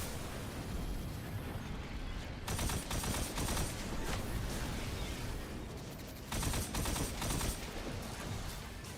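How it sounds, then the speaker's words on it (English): Rapid gunfire from the video game Destiny 2 crackles loud and dense almost throughout, with heavier bursts around the middle and again near the end, and no talking over it. "You're still shooting me from that corner?"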